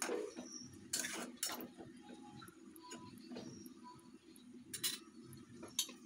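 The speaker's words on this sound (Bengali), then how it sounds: "এখন আমি দিয়ে দিব এর মধ্যে কেটে রাখা ধুন্দুলটা আমি ভালো করে এটার সাথে মিশিয়ে নেব" Metal spoon stirring chopped ridge gourd in a cooking pan while making a shing fish roe curry, giving sparse light clinks and scrapes against a soft sizzle, with a few sharper knocks.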